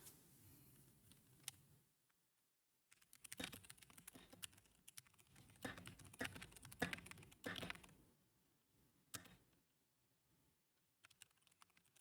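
Keyboard typing in bursts of rapid clicks on a computer keyboard during play of a cowboy deckbuilder game, with short pauses between runs of keystrokes, fairly quiet and close, no talking.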